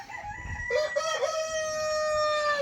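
A rooster crows loudly nearby, one long drawn-out call, with hens of various breeds clucking, turkeys present, and farmyard noise around it at an eco-park.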